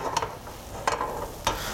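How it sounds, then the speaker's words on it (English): Sauce simmers in a pan on the stove, giving a soft steady bubbling hiss broken by a few light clinks as it is stirred, with no talking. "So this is simmering nice."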